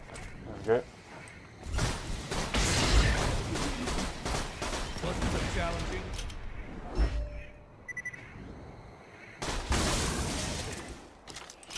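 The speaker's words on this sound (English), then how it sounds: "I do hate those turret guns." Turret guns fire in Borderlands 2, sounding as repeated bursts of broadband blasts in a busy, noisy game mix.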